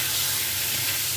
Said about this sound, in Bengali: একই তেলে আমি বেগুনগুলো ভেজে নেব।